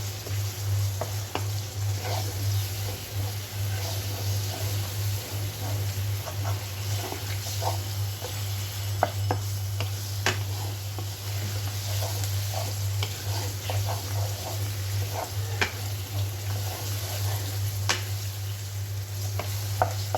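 Taro stolons and shrimp sautéing in a pan give a steady close sizzle with scattered stirring scrapes and pops over a constant low hum, continuing evenly without talk.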